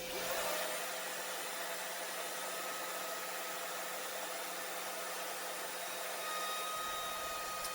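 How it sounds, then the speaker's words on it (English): A plain shop vac runs continuously collecting sawdust while a router with a 3/8 inch roundover bit works wood, a steady close whooshing hiss with a slight whine, no voices. "Little suction from a plain old shop vac makes a world of difference."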